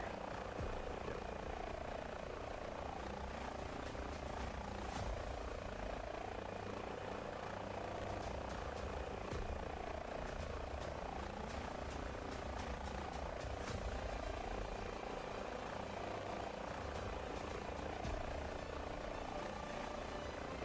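An Airbus H125 helicopter in Microsoft Flight Simulator 2024 drones with a steady, even rotor and engine hum that stays constant and fairly quiet throughout, with no talking.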